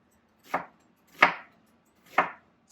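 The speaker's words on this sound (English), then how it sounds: "Again, we're just cutting it into small pieces." A knife chopping an onion into small pieces on a board, with three distinct, evenly spaced cuts heard up close and no voices.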